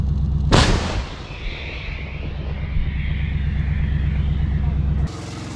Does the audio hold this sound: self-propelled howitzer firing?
yes